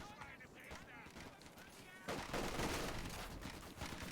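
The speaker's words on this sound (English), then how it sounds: "That's a Vickers gun that's chewing into them, plus about 10 Sten guns" Vickers machine gun and Sten submachine gun fire from Company of Heroes 2 rattles as dense, continuous bursts, growing louder partway through, with a voice talking over it.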